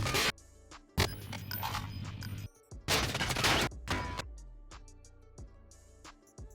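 Bursts of gunfire from a player pre-firing around a corner in a fast-paced shooter game, several loud sharp volleys separated by short gaps, close and dominant with no talking.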